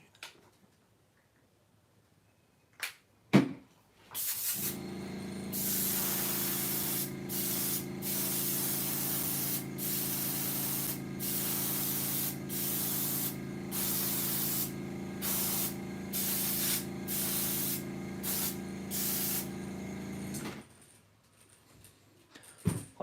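Airbrush hissing as it sprays paint onto jointed wake-style crankbait lures, a close, steady spray of about fifteen seconds broken by brief pauses and clicks, with handling noises before and after.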